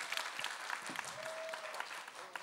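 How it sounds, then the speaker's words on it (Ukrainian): A studio audience at a children's music talent show claps in sustained, dense applause, with scattered louder claps standing out from the steady crowd noise. "Браво, тебе Украина аплодирует."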